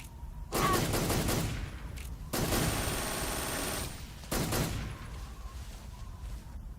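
Metal Gear Solid 3 Snake Eater gameplay gunfire: three loud bursts of rapid automatic fire separated by brief pauses, with quieter background sound in between.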